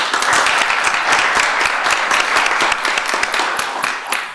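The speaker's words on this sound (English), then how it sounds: "Let's have a round of applause for them." Applause from the audience at a Bastrop city council meeting, dense steady clapping that stays loud and even for the whole stretch with no talk over it.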